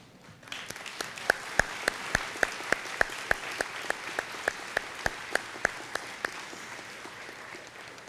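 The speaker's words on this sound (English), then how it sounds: "I ask that the class of 2018 please stand now and give a big round of applause to all of our supporters in and out of this room" At a 2018 high school graduation, the standing graduating class applauds in a large hall, a broad wash of clapping with sharp, evenly spaced loud claps ringing out above it, then fading.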